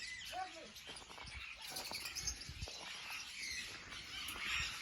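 Canaries and tropical finches, including zebra and Bengalese finches, chirp and tweet inside an aviary, a busy chorus of overlapping high calls with a few clearer chirps, moderately faint throughout.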